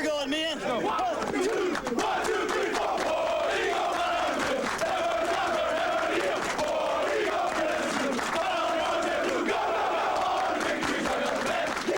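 A large crowd cheers and roars continuously at the 1994 Auburn vs. Florida football game, with a dense, sustained wash of voices and shouts.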